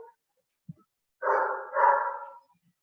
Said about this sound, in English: And your dog is actually barking.